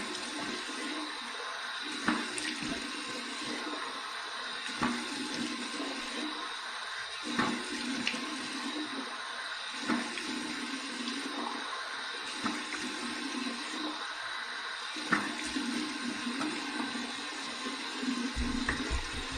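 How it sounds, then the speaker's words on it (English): Warm water pours steadily from a bathroom tap for a post-shave rinse, a fairly faint, even rushing hiss with small splashes, without speech. "Here is my warm water rinse right now."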